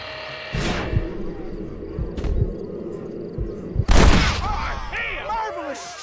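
Gunshots in the video game Red Dead Redemption: a few loud, sharp cracks spaced seconds apart, the last one big and close, with voices speaking between the shots.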